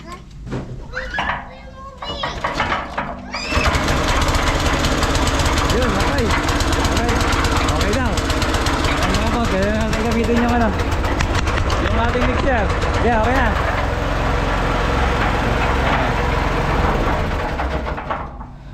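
A cement mixer engine runs steadily and loudly at a rural construction site in the Philippines, droning continuously beneath children's voices and chatter.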